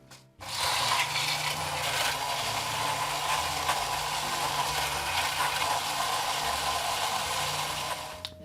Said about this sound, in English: Now, I'm going to put this in the spindle blender here.